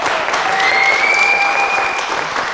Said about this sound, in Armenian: եկեք ծափարենք Էլեն Ասատրյանին